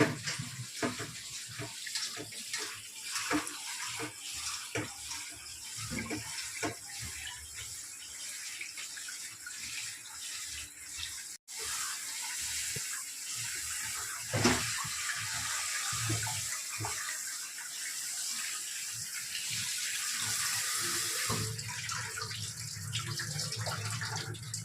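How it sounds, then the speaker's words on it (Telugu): Running tap water splashes steadily as raw chicken is washed with turmeric in a home kitchen sink, with broad continuous gushing and brief handling sounds, no voices over it. "చికెన్ కర్రీలో చికెన్ లో పసుపు వేసి కడగాలి"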